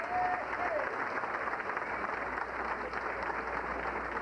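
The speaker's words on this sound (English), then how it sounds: "A round of applause for all the kids in the room tonight." Applause from a dinner audience at a speedway awards banquet, a dense, steady wash of clapping from a full room lasting several seconds.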